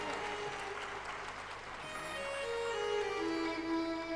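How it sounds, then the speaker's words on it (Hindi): Thin, half-hearted applause from an audience at a Ram Katha religious discourse, a scattered patter of clapping that swells slightly before a sustained tone rises through it. "तालियां कमजोर है"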